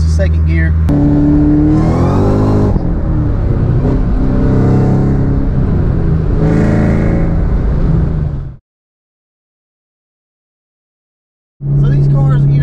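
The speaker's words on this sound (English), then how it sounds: "Show you guys kind of what the car sounds like. You know, that was the second gear." A Kenne Bell supercharged Ford Cobra pulls hard through second gear, its loud engine note climbing steadily, then cuts to silence for a few seconds before the engine sound returns.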